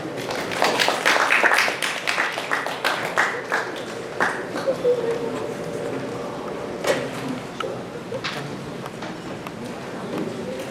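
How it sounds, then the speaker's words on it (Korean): An audience at a National Theater of Korea repertory season press conference applauds as guests come on stage, a brisk burst of clapping that thins into scattered claps and then fades. "박수로 맞아주시기 바랍니다"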